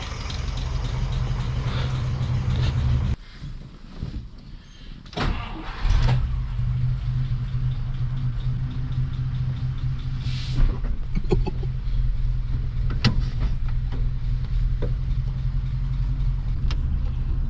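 The engine of a 1951 DeSoto runs steadily with a low, even idle rumble throughout, broken by a brief dip and a few clunks and mechanical clicks near the start.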